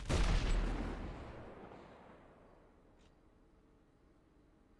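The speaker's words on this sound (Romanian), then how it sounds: "Am auzit explozie." A loud, deep video game explosion in GTA 5 booms at the start and its rumble slowly fades away over several seconds, with a small thump at the end.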